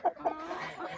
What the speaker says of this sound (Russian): Курочки на заднем плане.